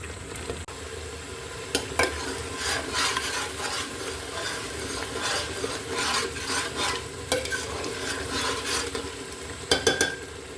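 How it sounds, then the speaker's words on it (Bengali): Spices for egg biryani sizzle and fry in a pan while being stirred, with steady frying hiss and repeated scraping strokes, plus a few sharper clinks of the spoon against the pot near the end. "মশলাগুলো ভালো করে কষিয়ে নিতে হবে"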